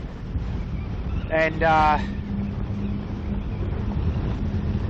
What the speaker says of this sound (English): this is pretty windy